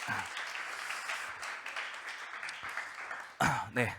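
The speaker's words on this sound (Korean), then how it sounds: "우리 다시 한번 우리 감사하는 의미로 박수 한번 보냈으면 좋겠습니다" A church youth congregation applauds in thanks, a steady wash of clapping that fades before a voice starts speaking close by at the end.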